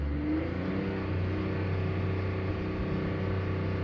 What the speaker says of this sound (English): Give it a bit more of a rev.